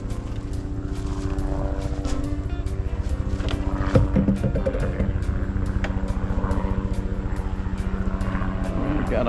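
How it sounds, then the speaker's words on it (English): A helicopter's rotor chops in a fast, steady rhythm with a droning engine, loud and continuous as it passes overhead. "We've got a helicopter flying over us."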